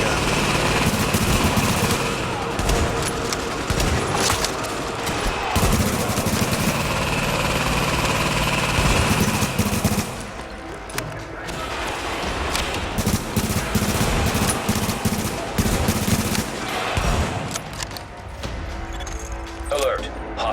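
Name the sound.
machine gun fire from The Division video game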